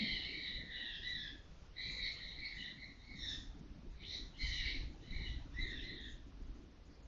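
Birds call in repeated bursts of bright chirping phrases, rhythmic and moderately close, over a quiet outdoor background with no voices.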